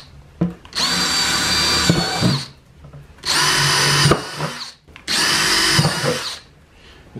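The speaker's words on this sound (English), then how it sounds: "we're going to drill some holes in the bottom of this for drainage" A power drill bores drainage holes through the bottom of a plastic 5-gallon bucket used for growing tomatoes, three loud sustained bursts of whining, grinding drilling separated by brief pauses.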